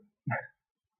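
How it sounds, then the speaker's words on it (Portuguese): A dog indoors in a living room gives one short, sharp bark, close and clear against an otherwise quiet room. "Estou olhando ali minha cachorra fazendo bagunça aqui na sala."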